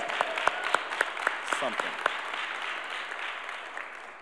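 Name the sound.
audience applause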